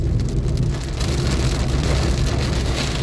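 Heavy rain drums steadily on a car during a drive near Baramati in a summer storm, a dense close patter filling the whole stretch with no voices.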